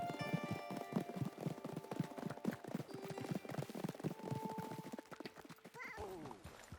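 Horse hooves clip-clop steadily in Red Dead Redemption 2 while riding in the rain, a rapid rhythmic patter of hoofbeats at moderate distance with a brief whinny-like sound near the end.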